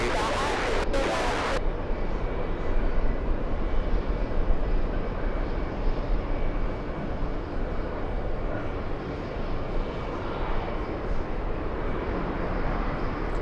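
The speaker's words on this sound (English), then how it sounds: "let's go for the CRJ, landing on 22 right." CRJ regional jet landing on runway 22 Right at JFK airport, a loud continuous engine roar with heavy low rumble throughout, steady and close, after a couple of brief clicks at the start.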